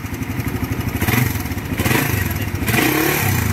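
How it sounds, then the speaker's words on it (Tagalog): A serviced motorcycle engine idles close by with a steady, rapid mechanical ticking over its throb, and the revs rise and fall a few times. "O ito yung tunog ng motor ni boss."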